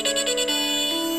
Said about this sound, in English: Someone made a dubstep Nokia ringtone.